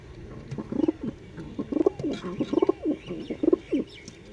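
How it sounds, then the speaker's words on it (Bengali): Close, soft coos from a pair of pigeons, a female and a male, repeat in a steady series of throaty, rolling calls, with no talking. "এই দেখুন পায়রা দুটো"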